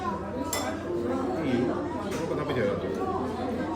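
A child eats from a big plate at a birthday meal, with dishes and cutlery clinking in light, scattered taps close by under steady family chatter and talk.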